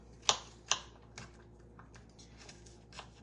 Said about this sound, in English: I'm just gonna take it and I'm gonna slice that up,